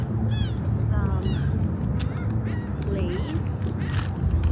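Geese honk while being fed by a person at a dragon boat tournament. Repeated loud honks and calls from several nearby birds sound over a dense, noisy outdoor background.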